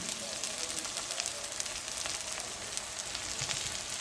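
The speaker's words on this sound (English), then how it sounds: "So just saute it, keep sauteing" Moringa leaves sauteing in a hot pan Indian style, giving a steady, even sizzle and crackle that holds at moderate loudness throughout with no talk over it.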